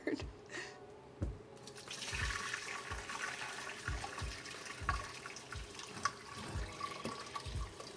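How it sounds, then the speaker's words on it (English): Cooled homemade soup pours and splashes into a kitchen sink, with running water, gurgling and irregular close clunks and knocks as the pot is tipped and handled, and no speech. "Here's to hoping that our soup has cooled down enough to where I feel comfortable dumping it into the sink"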